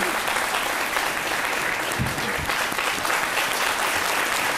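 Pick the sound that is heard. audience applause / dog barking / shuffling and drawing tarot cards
audience applause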